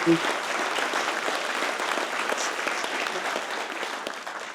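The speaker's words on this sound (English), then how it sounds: "give Allie a round of applause for our game day" Audience at an annual meeting clapping steadily and loudly throughout, a dense sustained wash of hands that tapers slightly near the end.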